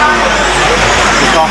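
1/10 scale off-road RC race cars at the 1995 IFMAR World Championships give off a loud, continuous high-pitched motor whine while a commentator talks over the racing.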